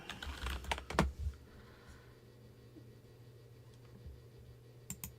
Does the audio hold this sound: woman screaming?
no